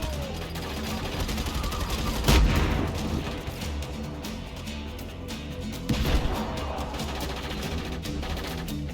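A relentless .50 cal machine gun barrage in Just Cause 3 rattles continuously, with two heavier booming impacts standing out amid dense combat noise.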